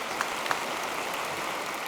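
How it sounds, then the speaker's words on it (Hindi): Audience applause at the GNT-IWMBuzz Digital Awards Season 4 ceremony, a steady crackling wash of many hands clapping for a couple of seconds, with a few sharper claps standing out near the start. "तालियां हो जाए भाई के लिए।"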